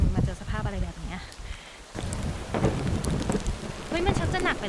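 Heavy rain pours down in an unexpected storm with thunder rumbling, loud and continuous, with bursts of intense downpour and a brief lull midway; voices can be heard talking over the storm.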